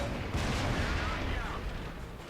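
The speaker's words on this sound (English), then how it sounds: "there's artillery shooting at me" Artillery shells firing and exploding in the World of Tanks battle, with an M6 heavy tank under fire; continuous rumbling blasts and booming low-end noise fill the scene, loud and sustained with a few sharper impacts.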